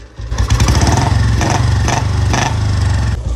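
A Royal Enfield Bullet motorcycle engine runs steadily in one gear, a loud, close, deep thumping beat with brief swells in revving, alone without talk.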